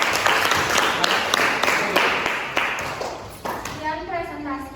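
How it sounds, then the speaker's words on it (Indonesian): Classroom applause for a group presentation: a burst of many hands clapping that slowly tapers over several seconds, near and fairly loud, with voices talking underneath toward the end. "Tepuk tangan dulu."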